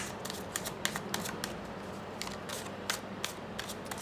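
A large, colorful, borderless tarot deck being shuffled by hand: rapid, crisp riffling card flicks in a steady stream, close and clear with no talking.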